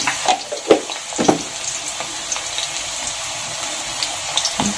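Radish pieces frying in a salted pan, with a steady close sizzle and hiss and a few louder stirring scrapes near the start.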